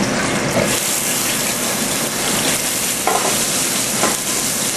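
Food searing in olive oil in a hot pan, a loud, steady, close sizzle with crackling pops and a few stirring bumps throughout.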